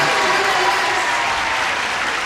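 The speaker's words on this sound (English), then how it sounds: "give a big rousing round of applause to Cindy Cave and Tim Baker over here." Audience applause fills the room, a dense, steady wash of many hands clapping at close range with no pauses throughout.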